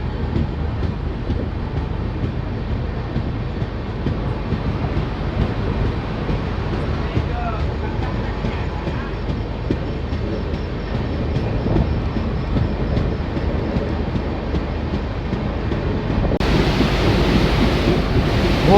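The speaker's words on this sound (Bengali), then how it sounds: "ভোর 3:30 সময় ট্রেন ফারাক্কা ব্যারেজ পার করছে" Garib Rath Express train crossing the Farakka Barrage before dawn, a steady loud rumble of wheels and rushing air running throughout, growing slightly harsher near the end.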